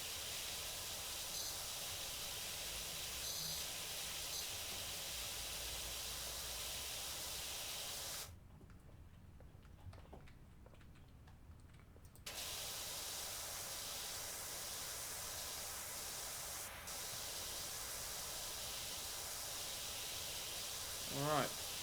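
A power washer in the Power Washer Simulator video game, a constant hissing spray that cuts out for about four seconds midway, then resumes steadily, with no talking.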